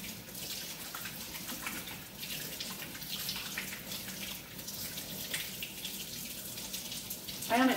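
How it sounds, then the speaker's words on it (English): Hands being washed under a running kitchen tap give a quiet, steady rush of water with light splashing throughout and a brief louder splash at the very end. "And then I wash my hands."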